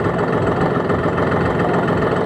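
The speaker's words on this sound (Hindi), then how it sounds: "अभी मैं बैठी हूँ जॉन डियर ट्रैक्टर पर 5405 पर" A John Deere 5405 tractor engine running steadily at idle, a loud, close, low rumbling drone with constant chugging texture and no change in pace.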